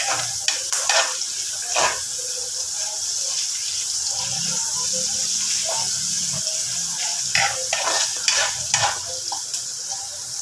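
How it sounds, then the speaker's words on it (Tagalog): Tomatoes being mashed and stirred in a hot pan while cooking Filipino pork menudo, with scraping and stirring sounds over a steady sizzle; the bursts are close and repeat irregularly. "Pisat-pisatin ang kamatis para maluto. Para madurog yung kamatis."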